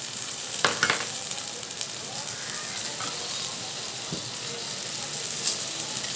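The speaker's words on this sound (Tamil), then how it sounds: "இந்த மசாலா வாடை போகிற வரைக்கும் இந்த ஆயிலில் ஒரு நிமிஷம் இருக்கட்டும்" Masala frying in oil in a pan for a spiced greens and brinjal kara kuzhambu, giving a steady close sizzle broken by a few louder stirring scrapes.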